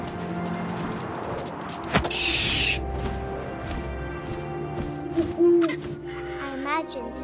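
Owl hooting inside the video game What Remains of Edith Finch, a few short hoots over a steady wind-like ambient bed with a brief swell partway through and occasional low thuds.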